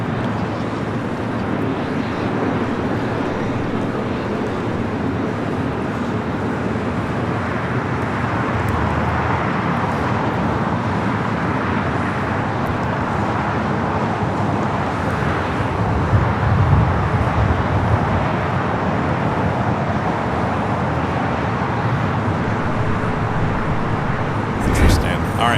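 At LAX, jet aircraft taxi amid a constant broad roar of engines and road traffic, with a commentator talking over it.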